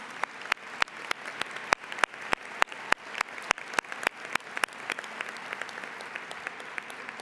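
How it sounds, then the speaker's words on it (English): Sparse, sharp claps from a small audience at a birthday luncheon, landing in an uneven rhythm and thinning out toward the end. "So please join me in a round of applause."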